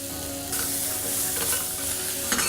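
Cilantro added to a hot pan, a steady sizzle of frying with a spoon stirring through it, scraping bursts over the continuous crackle, close and alone with no talk.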